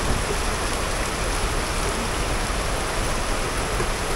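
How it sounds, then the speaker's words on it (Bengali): Heavy rain pours outside in a dense, unbroken roar of drops on surfaces. It stays loud and even throughout with no voices. "বাইরে প্রচণ্ড বৃষ্টি, বৃষ্টি কমতেছে না, বাড়তেছে আস্তে আস্তে।"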